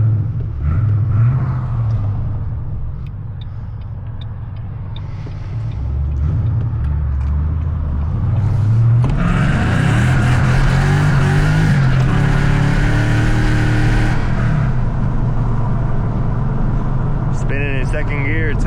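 Loud untuned Ford Mustang GT V8 revving and pulling hard through the gears, a deep steady rumble that swells into a roaring acceleration, heard from inside the car while someone talks over it.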